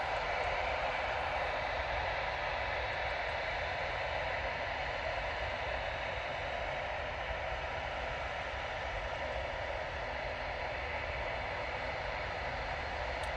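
Emirates airliner departing Manchester Airport, a broad distant roar of jet engines with hissing wash that stays steady and moderately faint throughout, no talking.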